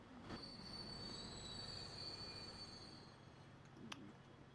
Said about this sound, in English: Here's my grain train.